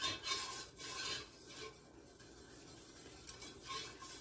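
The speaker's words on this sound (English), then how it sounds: "Let's get this stirred in here." Spoon stirring baking soda into a pan of cooked caramel icing, giving a soft, continuous scraping and rubbing with faint sizzling, close and steady throughout, with no talking.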